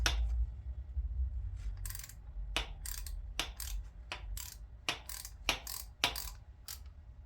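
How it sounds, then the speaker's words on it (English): A ratchet and socket tighten a catch can fitting on a 2022 Dodge Charger Scat Pack, giving a series of sharp, close metallic clicks in an uneven rhythm over a low background hum, with no talking. "get our ratchet and socket, and then finish tightening it up the rest of the way"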